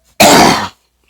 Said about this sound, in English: I had to cough a little bit more.